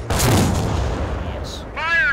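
Gunfire and artillery in the Company of Heroes strategy game, with a heavy blast up front fading into rumble, then sharper tonal effects toward the end, all fairly loud and under a short burst of game voice.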